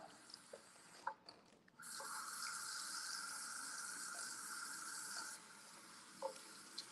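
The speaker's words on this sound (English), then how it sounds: "and then you add the water." Hot water poured into a small plastic bottle, a steady hissing stream for several seconds framed by small clicks and handling knocks, close and fairly quiet.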